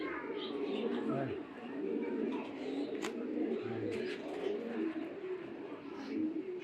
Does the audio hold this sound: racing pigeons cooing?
yes